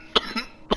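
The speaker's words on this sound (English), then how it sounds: "because of this cough of mine" Two short, sharp coughs ring out close to the microphone, spaced roughly half a second apart, with a faint throaty sound between them.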